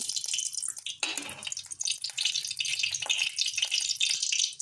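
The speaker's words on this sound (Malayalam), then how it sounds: "ആവശ്യത്തിനുള്ള വെളിച്ചെണ്ണ ഒഴിച്ചു കൊടുക്കുകയാണ്" Coconut oil pours into a pan on a lit stove with a steady trickling, splashing hiss and a brief louder gush near the start, continuous and close, with no talk.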